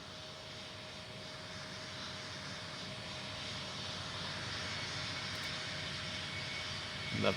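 JetBlue jet airliner landing at Raleigh-Durham in the game Tower Simulator 3: a steady, broad engine roar with a faint constant whine, holding level throughout and swelling slightly at the end, with no talking.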